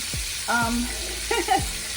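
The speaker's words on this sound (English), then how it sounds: "You see how quick they're frying in this olive oil?" Steady sizzling of chicken wings frying in hot olive oil fills the clip, with a few faint tonal squeaks and clinks over the hiss.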